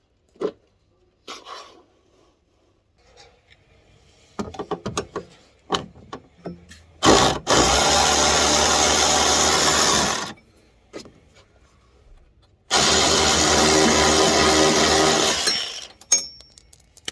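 A DayPlus cordless lithium ratchet wrench runs in two loud, sustained bursts of about three seconds each, separated by quieter clicks and handling knocks, with no talking.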